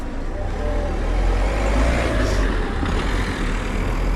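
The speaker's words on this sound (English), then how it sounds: "Can hear traffic on the main road." Steady rumble of cars and trucks on a main road near Loddon in Norfolk, a continuous low wash of traffic noise heard from a short distance on a morning walk, with no distinct pass-bys.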